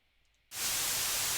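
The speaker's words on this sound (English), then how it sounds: "now I'm transmitting the white noise generator" Half a second of near silence gives way abruptly to a loud, steady hiss of white noise from a white noise generator transmitting over a lightwave communication circuit.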